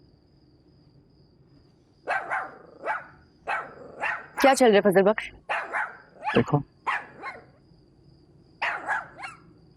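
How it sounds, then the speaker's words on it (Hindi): A dog barks repeatedly in short bursts, fairly close and loud, with pauses between barks and a brief growling run in the middle, while someone speaks over part of it. "कुत्ता नजर आ रहा तुम्हें?"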